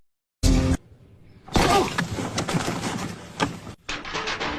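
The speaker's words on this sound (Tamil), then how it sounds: "உன் கண்ணாடி தானே உடஞ்சு போச்சு" Glass breaking in a comedy scene, a sudden loud crash out of silence followed by a longer, denser shattering clatter of fragments, close and sharp, ending in a few scattered tinkles.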